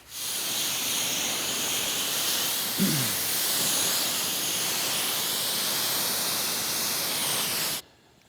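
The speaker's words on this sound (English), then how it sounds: "I'm gonna spray it off first, and we'll spray it again with DI water." Steady, close hiss of water spraying continuously for several seconds, then cutting off abruptly.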